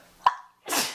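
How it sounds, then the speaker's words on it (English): A sudden sharp sneeze burst preceded by a quick intake, followed after a short pause by a breathy exhale, close to the microphone. "Oh, I'm gonna sneeze."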